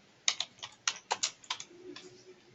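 Someone types an address on a computer keyboard with a quick, uneven burst of about a dozen crisp keystrokes, close and fairly quiet, with no voice.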